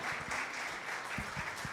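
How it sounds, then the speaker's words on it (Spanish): An audience at a kidney disease medical lecture gives steady applause, dense clapping throughout with a few low knocks underneath. "Un aplauso, por favor."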